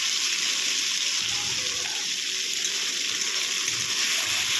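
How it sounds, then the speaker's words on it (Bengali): Spices sizzle in a pan as they fry down for a light katla fish curry with potatoes. A constant, dense crackling hiss runs close and loud throughout with no talk. "এখন মশলাগুলো ভালো করে কষিয়ে নিই"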